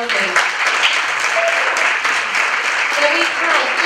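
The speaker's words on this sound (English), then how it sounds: "Can we all give the judges a round of applause as well, please?" Sustained audience applause for the judges at a hairdressing competition regional heat, dense steady clapping throughout with voices faintly mixed in.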